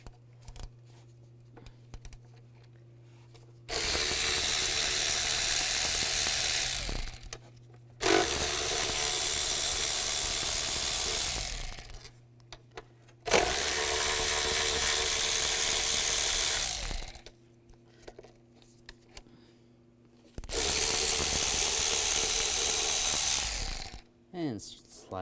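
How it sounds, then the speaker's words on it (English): A ratchet with a 10mm socket removing bolts on a Chevrolet Cobalt, four separate bursts of rapid clicking, each lasting a few seconds, separated by quiet pauses. "Using a 10mm socket, take all these bolts out."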